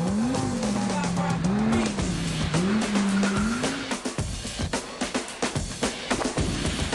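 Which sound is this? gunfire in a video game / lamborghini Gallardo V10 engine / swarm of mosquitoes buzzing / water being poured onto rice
lamborghini Gallardo V10 engine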